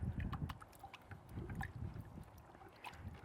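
Water splashes and gurgles in quick bursts as snails are rinsed off an aquarium filter for a 125-gallon aquascape, close and fairly quiet.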